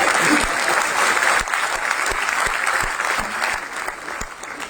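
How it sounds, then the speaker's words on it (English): Sustained audience clapping fills a packed hall at a science talk, thick and even, with a few sharper individual claps standing out as it slowly tapers. "I don't know why you're clapping."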